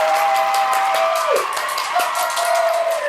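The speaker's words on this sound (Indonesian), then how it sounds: "tepuk tangan dong. Tepuk tangan." Applause with cheering and whooping fills the opening of a two-host podcast, a loud, continuous crowd roar crossed by bright sustained tones, likely a dropped-in sound effect rather than a live audience.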